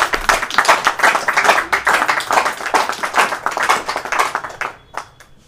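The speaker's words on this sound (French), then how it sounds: "On peut l'acclamer." An audience at a New Year's greetings ceremony at the CPTS in North Kivu breaks into dense, energetic applause with many hands clapping close by, then it tapers off and stops near the end.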